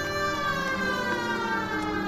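An emergency vehicle siren blares continuously in a driving video game, loud and steady with a dense, constant tone and no talk over it.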